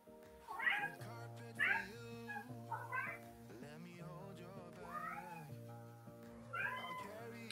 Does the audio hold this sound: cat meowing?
yes